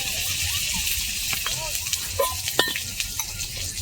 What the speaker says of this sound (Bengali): তেল এমনিই গরম হয়ে গেছে, শুকনো লঙ্কা দুটো দিয়ে দিচ্ছি